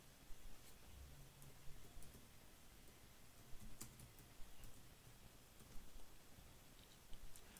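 Quiet, close computer keyboard typing during a business card design session, with irregular soft key clicks and small bursts over a faint background hiss.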